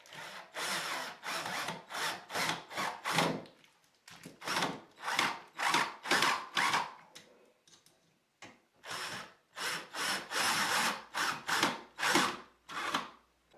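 A power drill drives screws into wood to fit a bathroom door hinge, whirring close and loud in repeated short bursts of varying length, separated by brief pauses.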